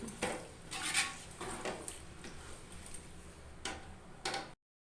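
Chicken in a pan is stirred, giving quiet clinks and scrapes of a utensil against metal over a faint background hiss, a few distinct knocks close by, with no talking; the clip ends in silence.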